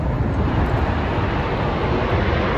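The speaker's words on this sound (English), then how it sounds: "That's a loud plane." A loud airplane passes overhead outdoors, its engine roar a steady broadband rumble that fills the whole stretch without letting up, with no voices over it.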